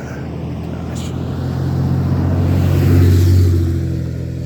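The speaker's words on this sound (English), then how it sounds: "This place is just teeming with big work trucks" Big work trucks drive past outdoors with a loud, low engine rumble that builds to a peak and then slowly fades as they go by.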